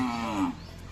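A cow moos once, a short, full bellow lasting about half a second that then trails off into low background noise. The cow is tethered by a rope on a Bangladeshi farm.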